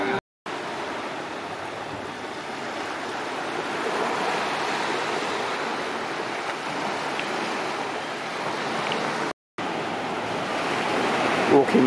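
Surf washes onto a beach on Koh Samet, Thailand, a continuous broad hiss of breaking waves that swells slightly toward the end, with two brief cuts to silence.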